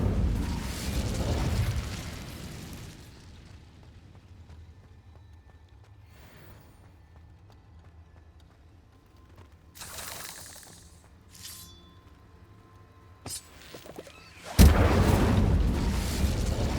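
Fire spell cast in a Harry Potter video game: bursts of whooshing, crackling flame erupt in several loud rushes, the strongest and longest closing out the sequence after quieter ambient stretches.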